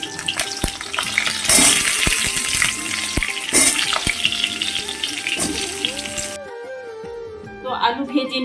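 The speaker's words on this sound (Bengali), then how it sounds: "কড়াইতে তেল দিয়ে দিয়েছি তেল গরম হয়ে গেছে এবার আমি আলুগুলো দিয়ে" Potatoes fry in hot oil in a wok with a loud, crackling sizzle and occasional sharp pops. A voice runs over it throughout, and the sizzle drops away near the end.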